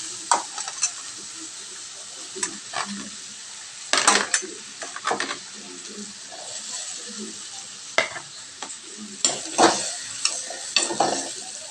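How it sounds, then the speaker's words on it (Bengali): Tomato pieces and potatoes frying in hot oil in a home kitchen, with a steady sizzle under repeated scraping stirs and occasional clanks of a spoon against the pan, close and fairly loud. "গরম তেলের মধ্যে টমেটোটা আমি দিয়ে দেবো। দিয়ে দেবো পরিমাণ মতো আলু।"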